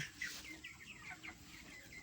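Broiler chickens on a farm during hot weather, clucking softly in a series of short, rising calls over low background noise, fairly distant and faint, with no voices.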